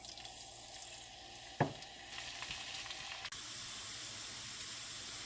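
Onions sizzle in six tablespoons of hot oil for chicken haleem, a steady broadband hiss with a sharp clatter as they drop in, then a louder, even sizzle that runs on alone.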